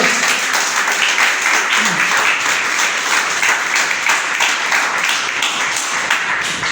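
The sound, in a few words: congregation applauding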